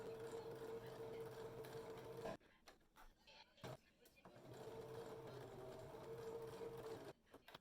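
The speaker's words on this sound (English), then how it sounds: "I'm just making a straight stitch across the whole bottom of the blazer." A sewing machine runs a straight stitch along the bottom hem of a blazer for a monster costume, a steady mechanical whir that stops briefly midway and then resumes, with background noise throughout.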